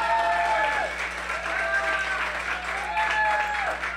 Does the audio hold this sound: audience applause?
yes